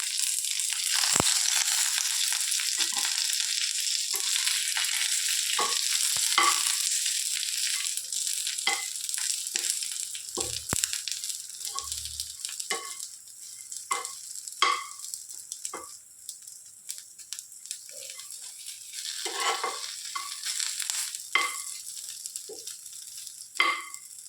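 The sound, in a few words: fried okra stirred and frying in oil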